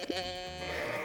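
Sheep bleat inside a sheepfold on a cattle and sheep farm, one drawn-out, wavering cry filling the whole moment, close and fairly loud, with no talking over it.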